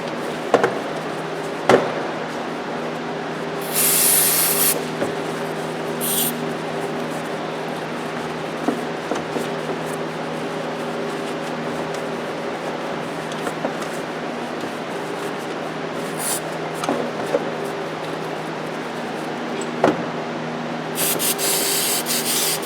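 On a Toyota 4Runner or Tundra engine, brake cleaner hisses out in short sprays while a rag rubs and scrubs the part, close-up steady scrubbing under a constant engine-bay hum, with sharp spray bursts near the start and end.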